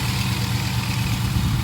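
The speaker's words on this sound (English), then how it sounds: "The engine sounding good." A swapped second-generation car's engine idles after an oil change, a steady, even low rumble with no revs or changes, alone and fairly loud.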